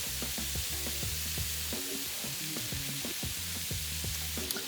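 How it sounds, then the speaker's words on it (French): Squid and chorizo browning in a hot pan make a steady, close sizzle and crackle that runs unbroken throughout, with light utensil or pan knocks now and then and no talking. "c'est vraiment pour les faire dorer avant de les passer au four."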